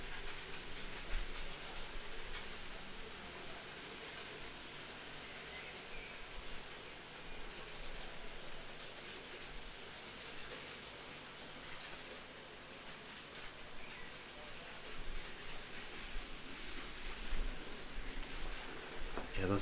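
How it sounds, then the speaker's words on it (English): Trains running with a faint, continuous rolling rumble and soft clickety-clack that swells and fades over about twenty seconds. "Much more fun to just run some trains."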